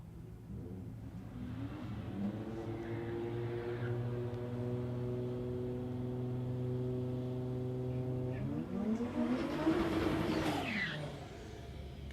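A Toyota Hilux drag races down Warwick Dragway, its engine holding a steady harmonic drone before sweeping through a rising, revving pass in the final seconds, heard from a distance.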